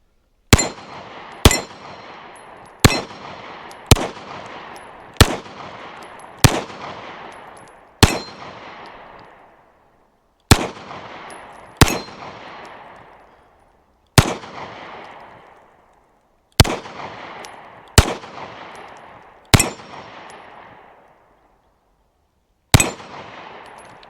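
A Girsan MC35 pistol fires at an outdoor range from about 10 yards, each sharp crack ringing out and fading before the next. The shots come at uneven intervals, some in quick pairs, across about a dozen rounds.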